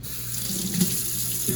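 Tap water runs in a steady, close stream while a Coticule hone is rinsed under it, with a constant splashing rush and small shifts in the flow.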